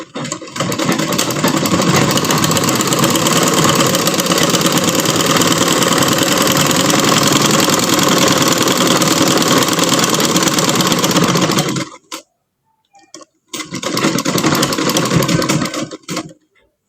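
Loud, close sewing machine running steadily as it stitches a seam around fabric during a beginner stitching lesson, a continuous whir for about twelve seconds, a pause, then another short run.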